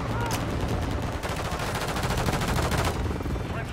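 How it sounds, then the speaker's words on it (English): Rapid automatic gunfire and explosive bursts from a military first-person shooter video game battle, loud and continuous with repeated machine-gun volleys and some voice in the mix. "Taking fire over here!"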